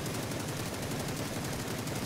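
Rapid automatic gunfire from a weapon fitted with a new muzzle brake in the video game PUBG, a dense unbroken stream of sharp shots at steady rhythm, loud and close with no talking.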